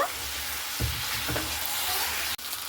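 Chicken curry being stirred and fried in a pan: a constant, close, loud sizzle with a couple of quick scraping stir strokes and a brief dip near the end.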